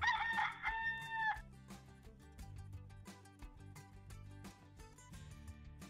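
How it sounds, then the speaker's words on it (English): A rooster crows loudly in one long cock-a-doodle-doo at the start, then gives way to a quieter background with rhythmic music-like beats. "Chase found the rooster. A rooster goes, cock-a-doodle-doo."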